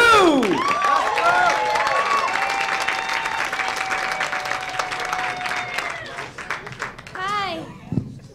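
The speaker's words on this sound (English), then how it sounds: "Clap it up for Esther Koo." An audience at a stand-up comedy show bursts into loud, sustained applause for a comedian coming on stage, with whoops and cheering voices over the clapping that taper off toward the end.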